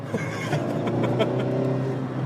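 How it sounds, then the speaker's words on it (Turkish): Steady Mazda MX-5 engine drone from inside the cabin, a low rumbling hum with slight revving fluctuations throughout. "Sesi çok güzel otomobilin."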